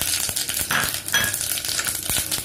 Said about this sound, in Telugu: ఆయిల్ వేడయ్యాక అందులో ఆవాలు, జీలకర్ర, మనం తీసుకున్న షాజీరా, దాల్చిన చెక్క, లవంగాలు, బిర్యానీ ఆకు కూడా వేసుకోవాలి